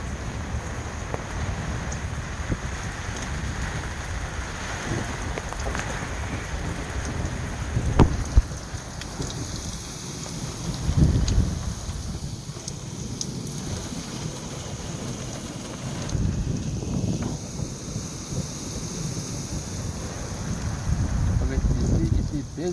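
Strong monsoon storm wind roars steadily across a rooftop in Marwar, mixed with heavy rain and occasional thunder, loud and continuous, with a voice speaking faintly under the noise.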